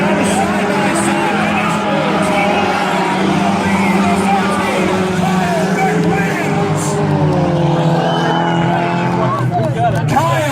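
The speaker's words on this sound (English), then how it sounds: "Kyle Bent goes around the number 18, trying to go around the number 12 now." Dirt track race cars roar continuously around the oval at Valley Raceway in a side-by-side battle to the finish, engines loud and revving with rising and falling pitch, under an excited race announcer's commentary.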